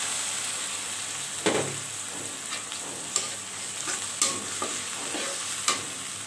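Onion and ginger paste fry and get stirred in a pan, with a steady sizzle running throughout and a few sharp scraping strokes of the spoon standing out.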